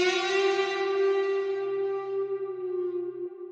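Single Kontakt Electric Mint guitar note plucked and left ringing, its bright attack fading into a sustained tone with a subtle pitch bend near the end, heard alone.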